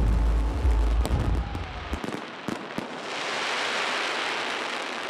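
Mexican fireworks in Tultepec are launched about 75 yards away with deep thumps and sharp cracks over the first two seconds, followed by a long, loud crackling hiss as the bursts shower and fizz.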